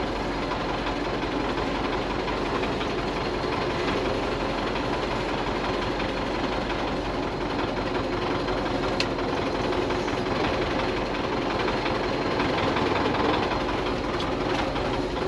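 A Belarus tractor engine runs steadily while grain is loaded into a small trailer on a farm: a constant loud mechanical drone and rumble with faint rattles, close by and with no talking.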